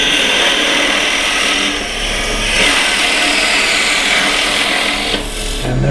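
A power drill bores into wood with the next bit while making a cryptex, a continuous close grinding whir with slight surges and dips across the stretch, no talking.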